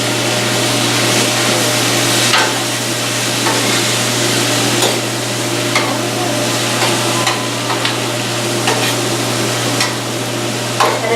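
Chopped tomato sizzles in a hot pan during a sattvik cooking class, with steady frying hiss and scattered scraping of a spoon stirring, continuous and close for several seconds.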